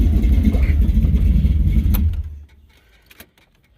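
A 1974 Chevrolet Caprice with high compression running on race fuel mixed with 93 octane rumbles loudly and steadily up close, then cuts off abruptly, leaving near silence with a couple of faint clicks.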